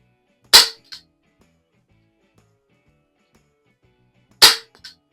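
Two separate sharp cracks from a Healthways 175 air pistol fired at a target, each followed by a faint tick, spaced about four seconds apart in near silence.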